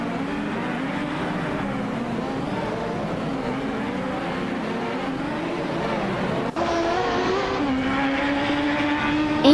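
A Lola T9500 race car in a racing video game, its engine a steady loud drone with shifting pitch as it revs through tight corners, then a sudden gear change and a higher sustained whine near the end.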